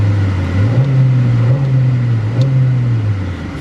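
A cold Mazda 626 engine revs hard and holds against its rev limiter, a loud, close, droning roar that wavers and bounces slightly in pitch for a few seconds before easing off.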